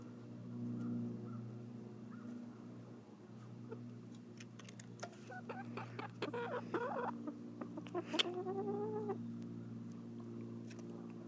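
Backyard chickens cluck and squawk in a short, faint cluster of calls partway through, over a steady low background hum with no talking.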